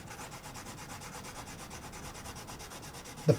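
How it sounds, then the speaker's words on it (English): A fingertip rubs pencil graphite off a post-it onto the surface of a Warbirds Replicas FW190 model, a steady, soft, close scratchy rubbing in fast even back-and-forth strokes, ending with a small bump. "using my finger I'm just rubbing that off the post-it onto the surface"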